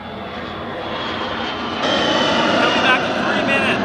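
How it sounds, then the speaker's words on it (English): A loud, continuous roar from a military jet flying overhead near the Navy base in Key West swells as it passes, while a person speaks over it. "We're sorry for the jet noise, but we are very close to the Navy base in Key West."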